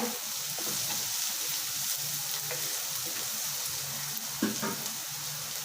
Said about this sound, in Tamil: வந்து வெங்காயம் நல்லா வதங்கிடுங்க